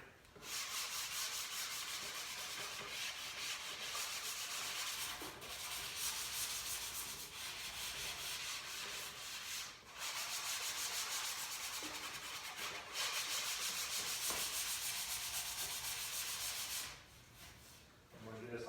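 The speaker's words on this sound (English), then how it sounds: "It's a medium grit sanding block, nothing fancy. Just give it a nice little sand." Steady, continuous rasping of a medium-grit sanding block rubbed back and forth over wood, close up, with brief pauses between strokes.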